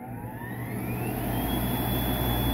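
A radial compressor runs continuously with a steady low hum and a rising whine, loud and close with no talk over it.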